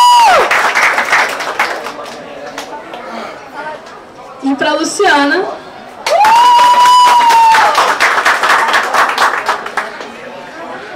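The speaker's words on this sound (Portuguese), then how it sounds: "salva de palmas para a nossa Tonks" Audience clapping and cheering at a launch event for a Harry Potter library box set in a bookstore, with a burst of applause and shouts mixed with crowd chatter and an amplified voice speaking over it.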